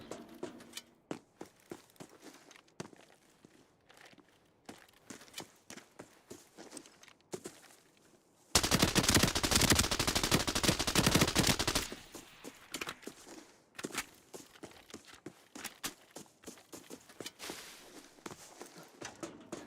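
Rapid gunfire from a U1 gun in a shooter video game: a loud sustained burst of about three seconds in the middle, framed by scattered quieter shots, clicks and footsteps before and after.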